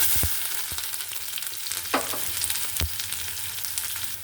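Chopped onions, garlic and green chilies fry in hot oil with a steady broadband sizzle, broken by a few soft clicks and stirring knocks, close and continuous with no talk.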